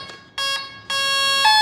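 Electronic arming beeps from the ESC of a Prodigy 1.4m RTF RC plane: two loud, steady tonal bursts, the second sustained and rising slightly in pitch at the end, close to the listener.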